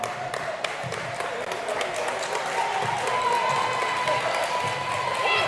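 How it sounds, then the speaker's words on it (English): A crowd cheers and claps in a gym during a girls' high school basketball game, a broad steady roar with scattered sharp claps, while a commentator talks over it. "I think that is what the crowd was cheering for."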